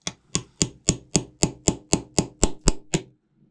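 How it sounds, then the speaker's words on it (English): A brass hammer taps a ground-down punch set in the flash hole of a brass shotgun shell to drive out the spent primer, eleven crisp metallic knocks in a quick, even rhythm, close and loud. "I tap on this punch, which is ground down so it fits in the flash hole."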